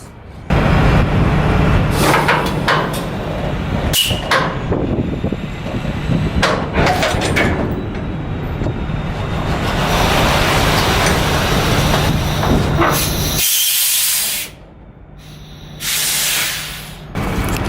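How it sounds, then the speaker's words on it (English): Semi-truck trailer tandems slide under loud bursts of compressed air, with sharp hissing blasts, metallic clunks and a sustained release before a quieter stretch and a final hiss. "Slide these tandems real quick, guys."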